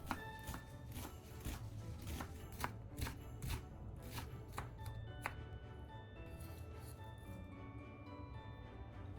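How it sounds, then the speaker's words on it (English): A knife dices an onion into small cubes on a cutting board, a quick run of crisp, close chopping taps in an uneven rhythm that slows and softens toward the end, with no talking. "Then dice the onion into small, cube-like pieces."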